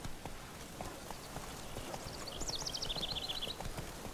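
The horse Roach gallops in the video game Elder Scrolls Online, its soft, fairly faint hoofbeats running in a steady rhythm, with a brief chirping whinny-like call midway through.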